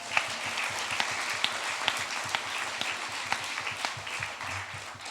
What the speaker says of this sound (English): Another round of applause for you, Miss B.